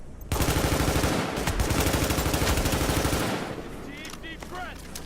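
Sustained automatic gunfire in The Division survival mode, a loud rapid burst of rounds lasting about three seconds, then fading to quieter game sounds with a voice heard afterward.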